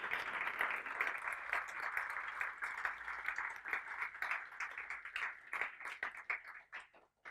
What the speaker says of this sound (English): So if you can applause to this people.